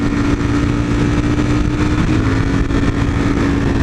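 A modded Ford Mustang GT engine roars loudly and steadily up close, holding a strong revving drone with a brief dip around a gear shift partway through.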